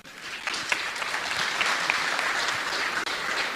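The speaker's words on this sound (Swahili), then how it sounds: "Tumpigie makofi" Audience applause for a person invited onto the stage at a leadership speech event, steady and sustained clapping from a crowd throughout, fairly even in loudness, with no talking over it.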